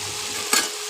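Ghugni (vegetarian Bengali dried pea curry) being stirred in a pan, a brief scraping stir rising out of a steady low sizzle, alone without talk.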